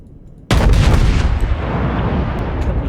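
Warship main guns fire in the naval combat game World of Warships, the battleship USS Texas, with a sudden heavy boom that hits after half a second of quiet and leaves a long, dense rumbling roar trailing for the rest of the clip.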